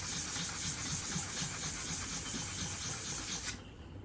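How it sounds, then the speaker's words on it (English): Steady hand sanding of small non-metallic parts for bellmaking, a continuous close scratchy rubbing with a bright hiss that stops abruptly near the end, no talk. "I'm gonna sand them until I get a nice clean"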